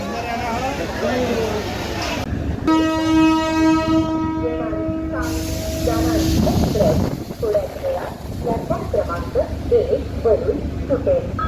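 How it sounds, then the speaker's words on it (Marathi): The Parli–Sangli DEMU Express departing crowded Pandharpur station gives a long, loud horn blast over rumbling railcars, with station crowd noise and voices around it. "निघालेली आहे आपली सांगली डेमो एक्सप्रेस"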